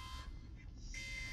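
Among Us game alarm blaring as a steady electronic tone held through a brief moment over a low background rumble.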